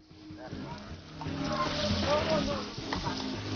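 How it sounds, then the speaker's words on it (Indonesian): Clam meat sautéing in a wok with freshly ground spice paste gives a soft, steady sizzle that swells gradually, with voices and other background sound mixed in. "Tak lama menggoreng dan menumisnya."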